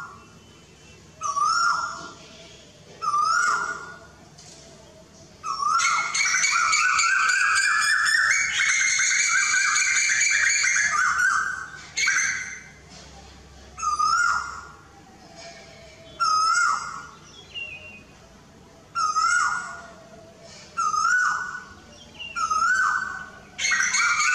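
Asian koel calls from a male and a female: repeated rising whistled notes in regular bursts, with one long, loud run of excited calling in the middle, clear and fairly close, with no talking.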